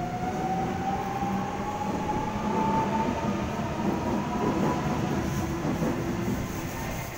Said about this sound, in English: now departing from platform number 2